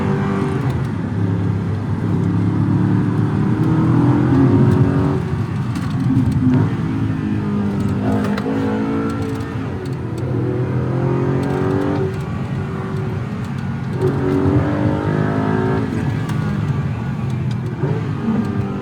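A powerful sports car engine revs and pulls through rising and falling gear changes, loud and continuous, with faint talk underneath.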